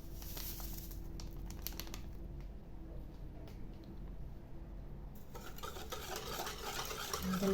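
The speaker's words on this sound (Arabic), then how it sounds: "نخلطهم مزيان" A spoon stirs chia seeds, vanilla sugar and starch in a bowl, a soft scraping and gritty patter, quiet and close.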